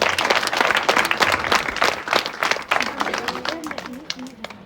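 An audience at a community gathering about gas distribution breaks into a burst of many hands clapping, loud and close, thinning out as a voice begins speaking over the last few seconds.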